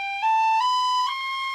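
A tin whistle sounds a single sustained C natural played with cross fingering, a clear bright tone held for over a second with a slight shift partway through, close and alone.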